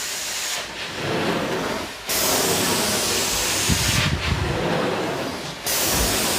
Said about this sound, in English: you don't have crazy steam coming out of this machine